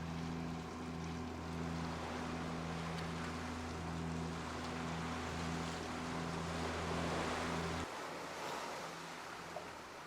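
A boat cruises on the open sea off Mexico on a fine day, with a steady engine drone and rushing water and wind that run continuously before the engine tone drops away near the end.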